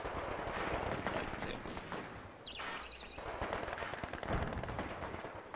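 Rapid machine gun bursts and scattered gunshots from the World War II strategy game Company of Heroes 2, dense, continuous battlefield fire with explosions behind, near and loud throughout.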